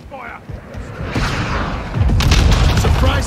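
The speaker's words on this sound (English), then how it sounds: "Oh, it's a fucking nade, Jesus!" A Call of Duty grenade detonates with a deep boom, followed by rumbling debris noise, close and loud, with a player talking over it.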